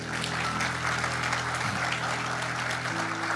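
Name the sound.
church congregation applause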